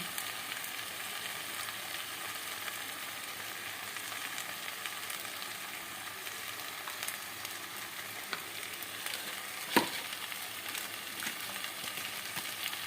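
Turmeric and cumin powder frying in a pan for a Bengali tangra fish curry, an even, moderate sizzle running steadily with faint stirring and one brief sharp clink near the end, no voices.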